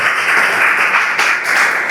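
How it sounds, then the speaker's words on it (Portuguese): Congregation clapping for the Lord during a Portuguese-language evangelical church service, a dense, steady wash of applause filling the whole two seconds with no voices above it. "Aplauda o Senhor,"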